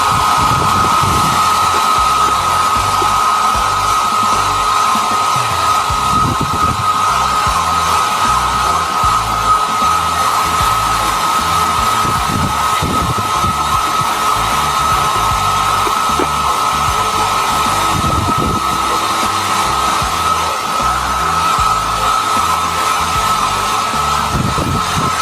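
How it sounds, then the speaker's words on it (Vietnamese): A hair dryer blows steadily to dry freshly cleaned electronic parts, a loud, constant close-up whir with a high whine that runs unbroken for the full length, with faint handling knocks underneath. "Các bạn dùng máy sấy tóc để sấy các bạn nhé."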